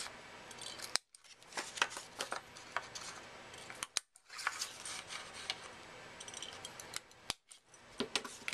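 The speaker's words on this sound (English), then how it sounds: "I'm going to round the corners with my really old corner rounder" An old corner rounder punches the corners of a handmade card, giving sharp crunching snips in a few groups, separated by short pauses, close up and fairly quiet.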